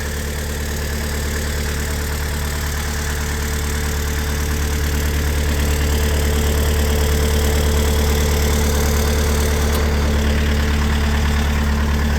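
An off-road vehicle's engine idles steadily with its PTO-driven winch engaged, a loud, close, unbroken low rumble with a faint constant whine and no talking.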